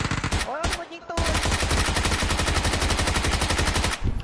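Rapid automatic gunfire in the video game PUBG, loud and sustained bursts of evenly spaced shots nearly filling the clip after a brief pause, with only a short gap near the start and end.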